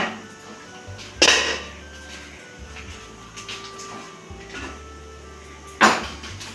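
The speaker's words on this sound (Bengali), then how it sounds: "5 মিনিট হয়ে গেছে, এবার ঢাকাটা আমি খুলে চেরিগুলো ডেকোরেশন করে নেব।" A metal lid lifted off a cooking pot while making dai pitha, with two sharp clanks a few seconds apart over a quiet room hum.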